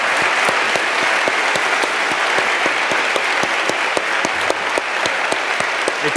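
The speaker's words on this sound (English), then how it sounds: "I just want to give you a round of applause" Audience at a distinguished speaker series event for the CEO of American Express gives steady, continuous applause, with a few sharper individual claps standing out from the wash.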